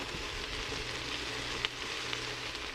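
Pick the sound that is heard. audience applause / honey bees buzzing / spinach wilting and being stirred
spinach wilting and being stirred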